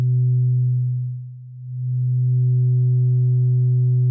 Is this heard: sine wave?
yes